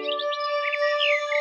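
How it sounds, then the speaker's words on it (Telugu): Small birds chirp and tweet in quick overlapping calls against a steady tonal background in an animated Panchatantra fable, with no voice over them. "ఒకరోజు ఒక పక్షి గుంపు యొక్క రాజు ఆహారం వెతకడం కోసం తన గుంపుతో పాటు చాలా దూరంగా ఉన్న గ్రామానికి వెళ్లాడు"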